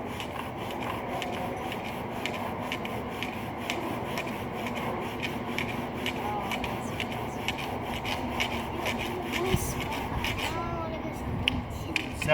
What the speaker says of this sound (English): This is called a bow drill.